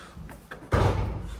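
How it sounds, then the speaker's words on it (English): A 2025 VW Jetta GLI door opens with a faint latch click followed by a sudden louder clunk and rush, close by in a garage while the car sits on ramps. "let's open the door"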